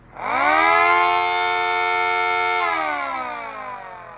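One blast from a 4-5 port siren winds up quickly to a loud, steady wail, holds for a couple of seconds, then slowly winds down as it fades.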